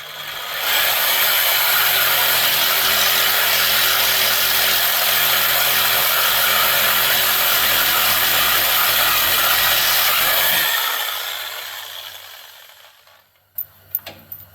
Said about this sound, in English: now let's see if this thing will cut a chain off